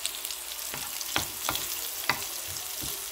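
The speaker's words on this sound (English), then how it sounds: "And then I will put the butter so that the garlic will not burn easily." Garlic frying in butter in a pan for sisig, a steady close sizzle with a few sharp utensil clicks and scrapes spaced through it.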